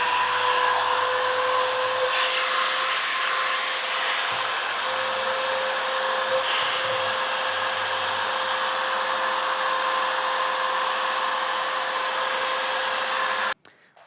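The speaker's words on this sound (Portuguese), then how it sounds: "a máquina assim a trabalhar em vazio não tem vibração mesmo nenhuma" Parkside PPM 710 A1 multi-router running without a bit at speed setting 6: a loud, steady high-pitched motor whine and airy roar held for about thirteen seconds, then cutting off abruptly at the end, with no talk.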